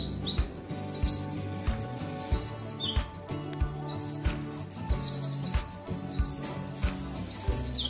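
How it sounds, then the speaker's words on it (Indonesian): A cucak kinoi bird sings loudly and close, repeating bright, sharp whistled phrases and chirps in a quick, regular pattern over a steady background hum. "seperti inilah suara burung cucak kinoi"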